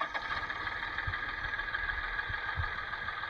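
A John Deere 2040 tractor engine idles steadily at close range, a continuous mid-pitched rumble with a faint rhythmic knock and no voices.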